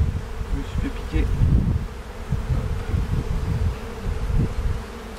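Honeybees swarm around an open hive in a Chartres apiary, their dense, close buzzing rising and falling continuously with no talk over it.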